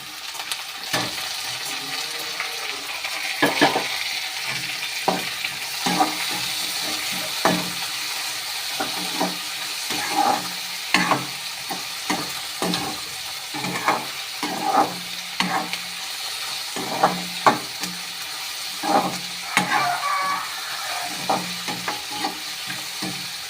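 Tomatoes frying in hot oil in a pan for a potato kurma, stirred repeatedly with a spoon that knocks and scrapes the pan in an irregular rhythm over a continuous close sizzle, no talking.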